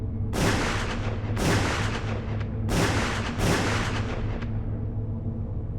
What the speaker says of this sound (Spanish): El hermano sacó la escopeta y la descargó 4 veces contra el muñeco